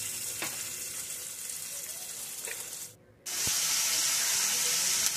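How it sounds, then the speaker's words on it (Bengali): Vegetables such as beans frying in a pan for fried rice, a steady loud sizzle broken by a brief quiet pause before the hissing resumes even stronger, with faint clinks of stirring. "আর বাকি সবজিগুলো সব ভেজে নেব ভালো করে ফ্রাইড রাইস করার জন্য।"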